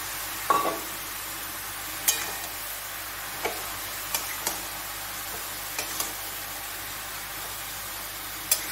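Tomato, bottle gourd and prawns are stirred in a pan. A soft constant sizzle sits under a handful of spaced, sharp ladle taps and scrapes, and no one speaks.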